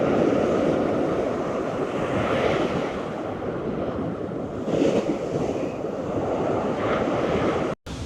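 Ocean waves roll onto a beach in a steady, continuous wash of surf, with wind buffeting the microphone and a brief dropout near the end.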